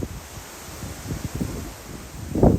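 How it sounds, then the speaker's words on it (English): Wind rustles outdoors on a windy day, a soft hissing wash with scattered low gusts and thumps, building to a stronger buffet near the end. "Wind is a force of nature"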